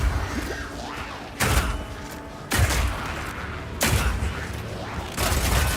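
Heavy sniper-rifle-style shots from a Mercenary weapon in Path of Exile 2 boom four times at roughly even intervals, each a sharp loud blast over mechanical clanks.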